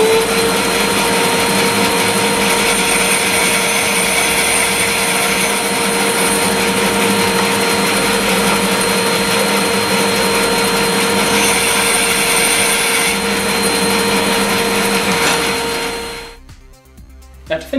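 A SIP 14-inch professional bandsaw cuts wood guided by the mitre slide, producing a loud, continuous motor drone with a tonal hum that runs steadily and then winds down near the end.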